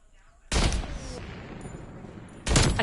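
Pistol shots in a shooting video game sound as loud, close bursts, one near the start with a long reverberant tail and another at the end.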